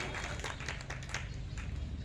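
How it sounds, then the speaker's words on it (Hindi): Dense applause from an assembled crowd at a torch-light rally of striking officials and employees, a steady wash of many hands clapping throughout, fairly distant and uniform with no clear voices. "एक बार सर के लिए जोरदार ताली बजाइए"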